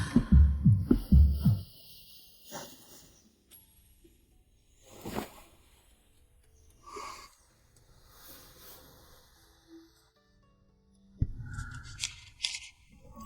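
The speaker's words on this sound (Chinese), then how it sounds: "怎么他的心跳这么快啊？" A fast heartbeat in a Chinese historical costume drama opens with a rapid burst of heavy, deep, close thumps that fade within two seconds, followed by quiet soft rustles and faint murmurs.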